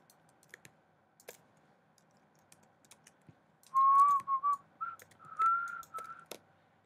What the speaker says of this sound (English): That is not good whistling.